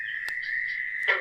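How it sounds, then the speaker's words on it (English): Fowler's toad giving a single sustained high-pitched, unmusical shriek from a pond, steady and fairly close, with a couple of short clicks and a brief rougher burst at the end. "they make kind of a shriek, kind of a high-pitched, unmusical shriek"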